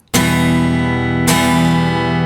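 Acoustic guitar chords strummed hard, two forceful strokes ringing out loud and full, the second about a second after the first.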